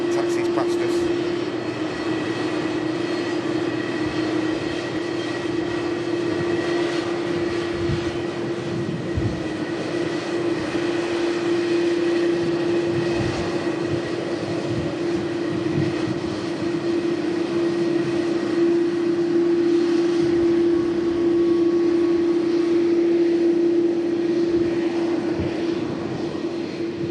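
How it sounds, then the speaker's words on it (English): A Turkish Airlines Airbus A330 taxis past at an airport, a sustained engine whine with a strong steady tone over a low rumble, while a person talks over it. "the Turkish 330 we saw just arriving, taxis past us"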